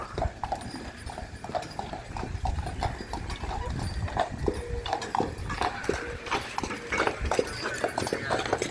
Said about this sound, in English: We could hear the clop, clop, clop of the horses